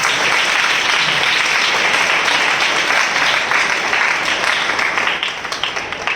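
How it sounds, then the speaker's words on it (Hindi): A church congregation gathered for a worship assembly bursts into loud, sustained applause, dense clapping from many hands that thins into scattered claps near the end. "हम जोरदार तालियों से उनका स्वागत करें।"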